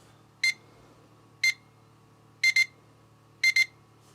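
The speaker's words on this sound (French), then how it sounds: "Et après, ça sera 2 bips successifs." A wooden digital alarm clock from aboveClock in its alarm mode, with two single high beeps followed by two quick double beeps in a steady one-second rhythm, close and clear against a low hum.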